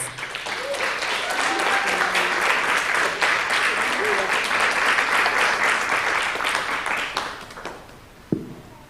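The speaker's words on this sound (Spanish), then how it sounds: "Las recibimos con un aplauso" Sustained applause from a crowd, steady and fairly loud for several seconds, then tapering off with a final sharp knock near the end.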